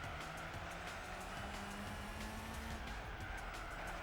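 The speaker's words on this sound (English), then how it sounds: "The Zonda has overtaken the McLaren Mercedes SLR." In Gran Turismo 4, a Pagani Zonda overtakes a McLaren Mercedes SLR. A loud, continuous engine drone holds steady, with traces of tyre noise and no pause throughout.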